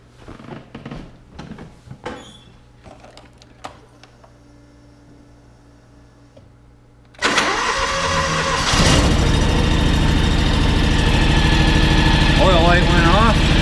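A John Deere X724 lawn tractor engine cranks and catches, then settles into a loud, steady idle close by after some quieter handling noises. Someone speaks briefly over the early part.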